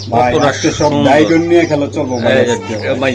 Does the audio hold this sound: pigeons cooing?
yes